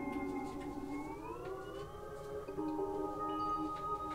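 An Assimil8or sampler loops a sample whose pitch is bent by an encoder, giving a sustained, siren-like electronic drone that glides upward and then shifts pitch again, steady and moderately quiet throughout.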